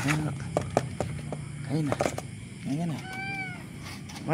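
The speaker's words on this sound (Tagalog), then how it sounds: "miyaw nang miyaw sa gutom" A cat meows repeatedly and insistently in short, rising calls, close up, with a person talking intermittently between the cries.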